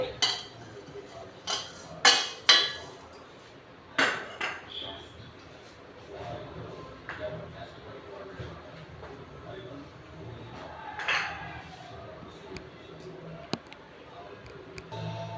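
Peanuts roast in a pan amid a run of sharp clinks and rattles from stirring, bunched loudly at the start and thinning to sparse taps later, with a voice talking quietly at times.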